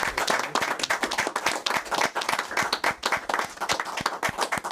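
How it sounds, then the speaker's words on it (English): A crowd gives a big round of applause as trophies are handed to Ipswich Town representatives at a cup and league trophy presentation; dense, steady clapping runs the whole length, loud and close, with no voices over it. "Give them a big round of applause."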